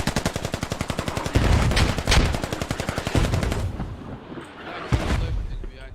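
Rapid machine gun fire in the Squad tactical shooter, sounding as loud, close, sustained bursts of evenly spaced shots with heavy booms mixed in, then trailing off into scattered distant reports.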